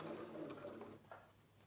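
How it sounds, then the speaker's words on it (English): A domestic sewing machine stitches a fabric bucket panel to the edge and back tacks, a steady close motor hum for about a second that drops off, followed by a brief quieter burst. "I'm going to sew all the way to the edge, and then I'm going to back tack 3 times and go forward again."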